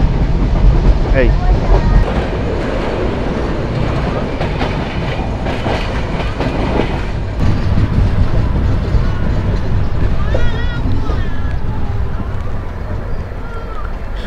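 A train running near Joydebpur railway station in Bangladesh, a steady loud rumble with wheel clatter throughout, under someone talking.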